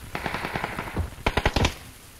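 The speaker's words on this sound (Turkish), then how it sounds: "Arkandan vuruyor adam." Machine gun fire in PUBG rattles in two quick bursts, a string of rapid sharp shots followed after a short pause by a tighter, louder volley that ends abruptly.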